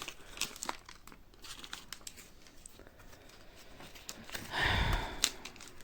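A greasy plastic shawarma bag crinkles and rustles in scattered bursts while a parcel is unpacked, close and soft, with one louder crumple near the end and no talking.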